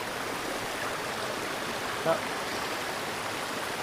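A mountain stream on the Flume Slide Trail rushes steadily in a constant, even wash of flowing water, close by and moderately loud.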